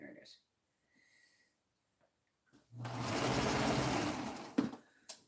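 Domestic sewing machine running a steady stitching burst of about two seconds, loud and close, after a quiet pause broken by brief soft handling sounds, ending with a couple of clicks; someone speaks briefly before it starts.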